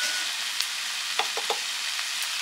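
Spice paste sautéing with water in a pan, a steady broadband sizzle with a few soft stirring scrapes near the middle, close and continuous.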